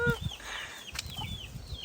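Farm chickens running loose outdoors give soft scattered clucks and rustling movement, fairly faint and distant, with occasional brief chirps and no talking.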